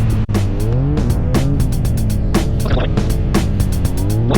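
A car engine rises and falls as the driver alternates light braking and throttle, revving in repeated swells with clicking and rumbling, loud and close inside the vehicle, no talking.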